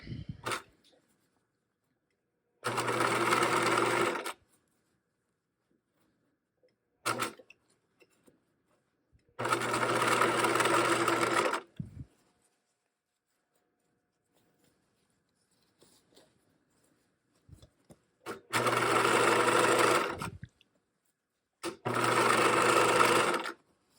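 A sewing machine stitches a folded hem on shorts in several loud, steady bursts of rapid mechanical whirring, separated by near-silent pauses with small handling noises.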